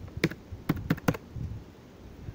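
A few sharp, close clicks of typing on a computer keyboard, four or five quick keystrokes spaced irregularly, followed by a quieter stretch with faint tapping.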